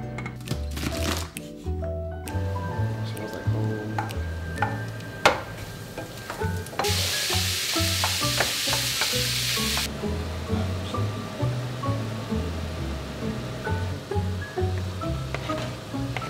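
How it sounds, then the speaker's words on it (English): Minced pork stir-fried with beans, garlic and soy sauce sizzles steadily in a pan, with repeated scraping and tossing strokes and a brief louder burst of frying partway through; no one talks. "minced pork, beans, some garlic, some soy sauce stir fry"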